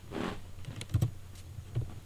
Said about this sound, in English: for the typing sound effects